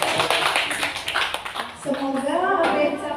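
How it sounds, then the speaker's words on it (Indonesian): Brief clapping from an audience at a school teachers' positive-culture session fades quickly and gives way to a voice speaking over the room. "Tepuk tangan sekali lagi."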